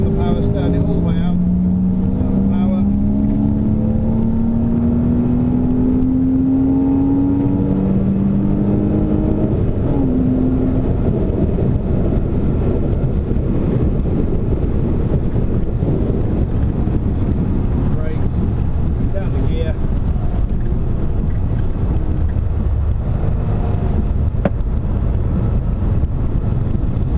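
Car accelerating around the Silverstone circuit, a steady loud engine drone rising in pitch as it pulls out of a corner, heavy wind buffeting the microphone throughout, with an instructor's voice heard over it.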